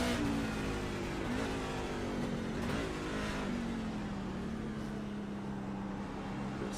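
A NASCAR truck engine in the iRacing sim at the Long Beach street circuit, revving hard with a rising and wavering pitch as it winds out, loud and steady over road noise.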